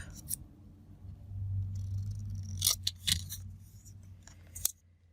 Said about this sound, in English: I'm going to trim that up